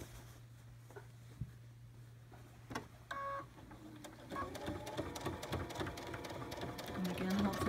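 A sewing machine stitches faux flange binding on a quilt, starting with a few single stitches and then running into a steady, rapid mechanical whir that grows louder near the end.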